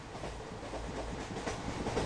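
Steady rumble and rhythmic clatter inside a moving railway compartment, a continuous even roar heard close with no break and no voices.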